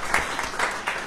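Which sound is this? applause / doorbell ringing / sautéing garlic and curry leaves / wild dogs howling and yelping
applause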